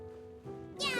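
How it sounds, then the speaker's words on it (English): A cat in Genshin Impact gives a short meow, fairly close and clear, rising brightly at the end of about a second of quiet game ambience. "That poor cat."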